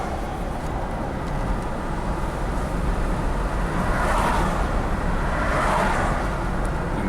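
A Triumph Bonneville motorcycle cruising steadily on cruise control, its even engine drone blended with road and wind rush, loud and continuous with a slight swell midway.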